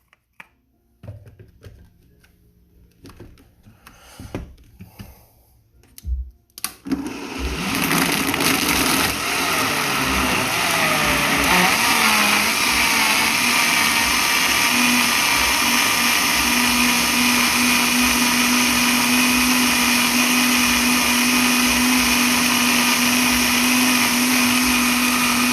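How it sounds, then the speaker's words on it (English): Countertop blender running continuously on an aloe vera smoothie with aloe gel, loud and steady after a quieter stretch of handling noises at the start. "that's going on the blender."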